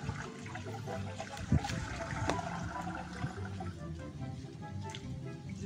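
Spring water drawn from a well with bamboo in the traditional way on a small farm: steady trickling and splashing water throughout, with one sharp knock partway through.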